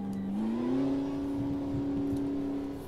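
A McLaren race car in Automobilista 2 revs up loud and close, its engine note climbing in the first half second and then holding a steady high whine as it pulls away.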